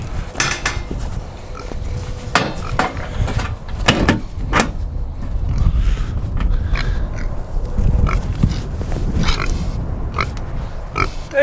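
Pig grunting and snuffling on a farm near its feeder, short rough grunts scattered across a steady outdoor background with some clanks, fairly close and moderately loud, no talking.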